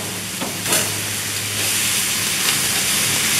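Steak, pork loin and sausage sizzle and hiss on a hot grill right after being flipped, a steady broadband crackle close up with no one speaking.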